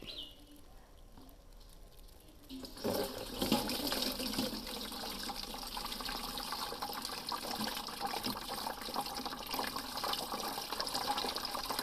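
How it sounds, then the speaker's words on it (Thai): Fermented pineapple-peel liquid, separated from the pulp, is poured out in a steady continuous splashing stream that starts after a few quiet seconds and runs on close and fairly loud, with faint birds in the background. "ก็เอาเนื้อเอาน้ำออกนะครับแยกจากกัน นะครับ แล้วก็เทลงไปเลยครับ"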